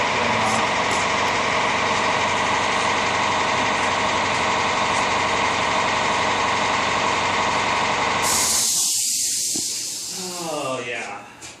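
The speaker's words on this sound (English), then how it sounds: "That is our notorious air compressor that you hear on about every one of our videos." A workshop air compressor in a furniture refinishing shop drones loudly and steadily, then shuts off near the end with a brief hiss and fading rattle.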